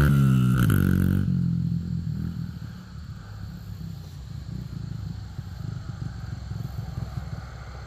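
A small clutchless motorcycle in a backyard revs high, then bogs down and sputters to a rough, lumpy low idle as it stalls, close by with scraping clatter and no talk.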